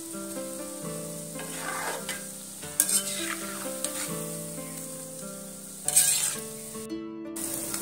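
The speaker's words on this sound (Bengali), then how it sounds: "এই যে আমার পকোড়াগুলো এখানে একদম লাল লাল করে ভাজা হয়ে গেছে।" Pumpkin-leaf pakoras bubble and sizzle in hot oil, a steady close hiss with occasional louder crackles and spatters, while tonal background music plays underneath throughout.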